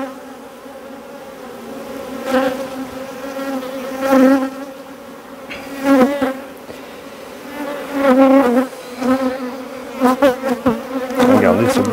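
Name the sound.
honeybees buzzing around hive frames during colony transfer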